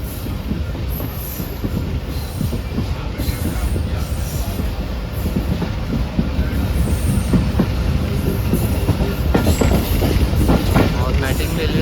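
Train rolling past on Pakistan's Main Line 1 railway, a loud continuous rumble with rhythmic wheel clatter and faint squeal building over about twelve seconds, with a voice occasionally heard over it.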